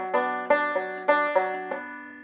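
Banjo picking measure 38 of a song, with an open second string ringing: six bright plucked notes in an even rhythm, each attack sharp and then sustaining, close and alone with no voices.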